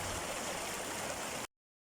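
Spring water pouring freely from under a rock in a forest, a steady, close, full rushing splash that continues evenly, then cuts off abruptly near the end.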